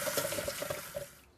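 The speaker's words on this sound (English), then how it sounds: "I need to rinse the beans thoroughly with water before I can mash them up" Tap water pours steadily over canned black beans in a colander, a broad continuous splashing rush that trails off as the flow stops, close and alone.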